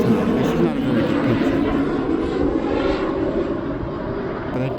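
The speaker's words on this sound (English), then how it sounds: "Oh, I love these airplanes flying overhead all the time." Airplanes pass overhead on a cloudy day near St. Pete Clearwater, a steady loud engine roar that fills the whole stretch, with a person talking over it.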